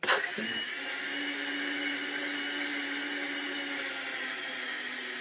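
A blender whirs steadily while mixing a mocktail, a loud continuous motor drone with a sharp start and an even hum throughout, no voices over it.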